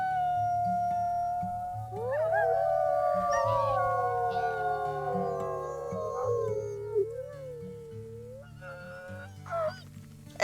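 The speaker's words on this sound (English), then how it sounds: "So I think we'll do one more howl." Several wolves in the WolfQuest video game howl together, overlapping rising and falling tones, one notably high and squeaky, loud and close over a steady low music bed, fading out toward the end.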